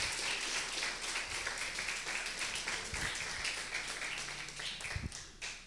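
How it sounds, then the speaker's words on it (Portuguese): A church congregation applauds during a Portuguese-language evening service, a steady wash of many hands clapping at moderate distance that carries on evenly for several seconds, with a few louder taps near the end. "Você pode aplaudir o Senhor"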